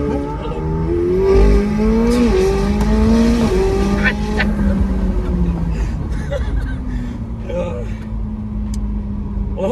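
A 2024 McLaren 750S Spider sports car drives and slows to a stop, its engine note loud and falling in pitch as it decelerates, with a person talking over it.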